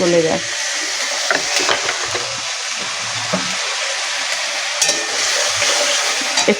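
Tomato fries in a pan as a spoon stirs it, with a constant close sizzle and repeated scraping and clacking strokes from the stirring.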